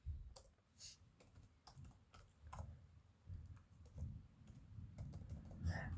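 Typing on a computer keyboard while filling in a web form, with irregular bursts of quiet key clicks over a low background hum.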